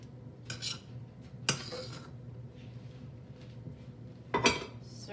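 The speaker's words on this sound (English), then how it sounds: "I'm going to give this a nice good stir. Mix all that cheese into there." Pesto chicken with bow tie noodles and cheese is stirred in a pan with the burner off, producing a few sparse, close metallic scrapes and clinks against a quiet background.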